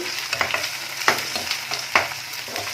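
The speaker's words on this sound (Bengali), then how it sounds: "এবার আমি এর মধ্যে একদম মিহি করে কুচনো পেঁয়াজটা দিয়ে দিলাম।" Finely chopped onion frying in a pan for a pepper garlic chicken dish, with a steady soft sizzle broken by several sharp scraping stir strokes, close and clear with no talking.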